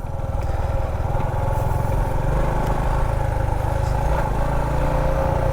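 A motorcycle engine chugs steadily up close during a long ride, a loud, even low-pitched putter with rattling texture and no talk over it.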